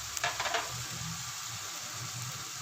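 Masala frying in a pan as spices like salt, red chili, black pepper and turmeric go in for a Lahori chicken and chickpea curry, a brief louder crackle at the start settling into a continuous close sizzle.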